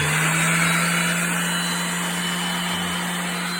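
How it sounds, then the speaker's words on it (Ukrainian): An eccentric orbital sander running from a power inverter gives off a steady, loud electric motor whine with a constant hum. The tone holds unchanged and stays close throughout the short stretch. "Під'єднуємо ексцентрик і дивитеся, як вона працює."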